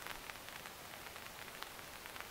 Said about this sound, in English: I hear the rain on my awning here